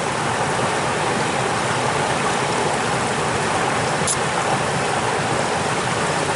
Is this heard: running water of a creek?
yes